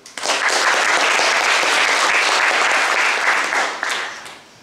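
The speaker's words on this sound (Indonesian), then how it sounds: "Tepuk tangan dulu." Dense, loud applause fills a school hall at the closing ceremony of a high school leadership training camp. It swells quickly, holds steady for several seconds, then tapers off near the end.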